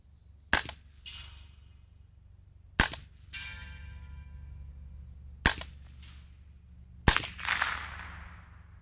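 Four sharp rifle shots from a pre-ban Colt AR-15 Sporter II carbine fitted with a .22LR subcaliber bolt, spaced a second or more apart, each followed by a short ringing echo over a low steady rumble, with no talk.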